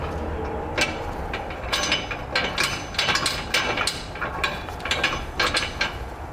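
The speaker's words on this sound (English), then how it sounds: "we're going to grab another one of our flange nuts and secure it down" A flange nut being run down onto a trailer hitch bolt with a socket wrench while mounting a Curt hitch receiver on a 2018 Ram 1500, heard as repeated close ratchet clicks in short bursts with metallic knocks.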